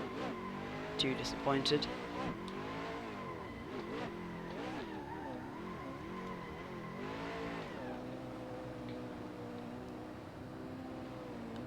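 A drift car slides with engine revving and wavering pitch while the driver pulls the hydraulic handbrake, with brief tire chirps early on; someone talks over the steady engine drone throughout.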